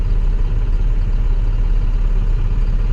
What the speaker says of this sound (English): get it warm enough to get some engine noise from it